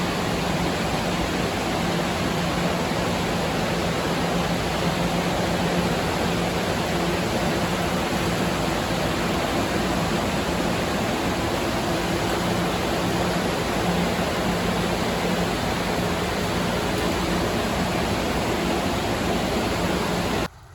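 A pump on a raft moves manure water at 120 gallons a minute into a separation building at a sand manure processing system, giving a steady, loud, broadband rushing hum that runs unchanged throughout with no talk.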